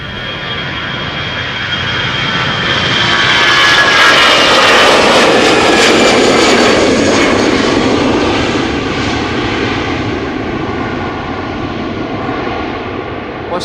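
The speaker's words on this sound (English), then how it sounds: "This is Aer Lingus Shamrock flight 605 to Dublin. It's A320, 19 years old, first flight March 2005." A 19-year-old Aer Lingus Airbus A320 jet departs Amsterdam Schiphol for Dublin, its engine roar building to a loud, close, broadband rush that holds for several seconds and then slowly fades away.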